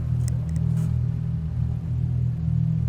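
An SRT car's engine in the Forza 6 racing game gives a steady, loud low rumble that holds throughout, with a few brief higher clicks early on and no talking.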